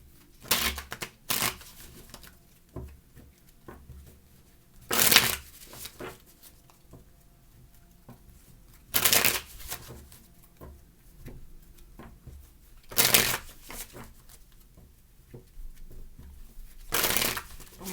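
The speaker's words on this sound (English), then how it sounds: "Sorry guys, I have to shuffle by like how the cards tell me." Cards being shuffled nearby in repeated riffles, sharp bursts every few seconds with soft tapping and handling sounds between them.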